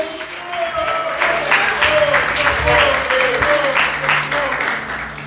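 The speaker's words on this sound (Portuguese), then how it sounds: "Você pode aplaudir e exaltar o Senhor nessa noite." A congregation claps together during an evening church service, steady applause filling the room continuously for several seconds, with tonal voices or instruments faintly underneath.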